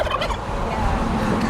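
A heritage turkey on a Wyoming ranch farm gobbles once in a quick, close warbling burst, followed by a low, steady background.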